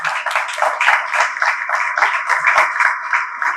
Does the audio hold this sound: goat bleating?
no